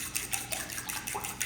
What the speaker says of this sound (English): I'm gonna whisk this all together.